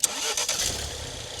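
A Ford Focus RS fitted with an induction kit and Milltek sports cat starts up, a quick crank burst settling into a quiet, steady idle close by, with no talking.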